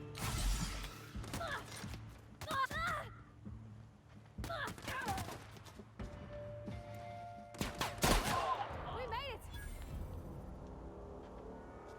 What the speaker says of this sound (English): What the fuck's shooting at me?